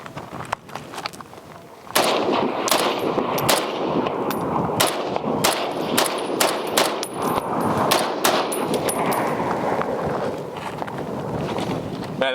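Shots from a Springfield Armory M1A SOCOM 16 rifle in .308 crack outdoors in a rapid, uneven string of loud reports after a short quiet lead-in, with metallic clangs and wind noise between them.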